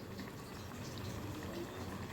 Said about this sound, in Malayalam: തിളച്ച് വരുന്നതേ ഉള്ളൂ.